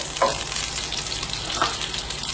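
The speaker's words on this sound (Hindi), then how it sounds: "जैसे ही थोड़ा सा गर्म हो जाए इसमें सोया सॉस ऐड कर दूँगा। सोया सॉस को 1-2 चम्मच चला लें।" Soy sauce stirred and frying in a hot wok, with a steady broadband sizzle and two brief louder scrapes of stirring, close and alone without talk.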